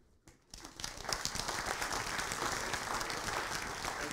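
Applause from the audience at a university tutor reunion event starts after a brief quiet moment, then quickly swells into dense, sustained clapping that fills the room.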